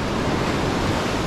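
Ocean surf breaking on the shore during a shore jigging fishing trip, a loud, steady broadband wash of waves with wind noise, no pauses and no voices.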